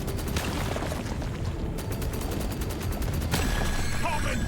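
Nonstop rapid gunfire from a dwarf shooting bugs in the video game Deep Rock Galactic Survivors, a dense, unbroken rattle of shots mixed with mechanical game effects, steady and loud throughout.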